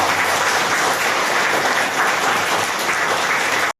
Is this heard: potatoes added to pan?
no